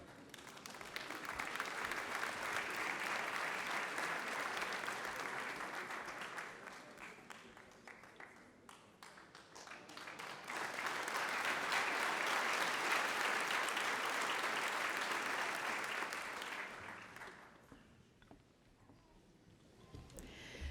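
A graduation ceremony audience applauds new science graduates, two long swells of dense clapping that rise, hold and fade, with a short lull between them in a large hall.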